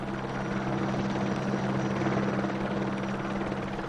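Helicopter hovering over a forest fire while firefighters are lowered by rope, a loud, steady rotor roar with a continuous throbbing drone throughout.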